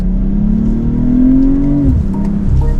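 A 2025 BMW M340i with rear-biased xDrive all-wheel drive accelerates hard on a mountain ghat road, its loud engine note rising smoothly and then dropping sharply as the throttle lifts.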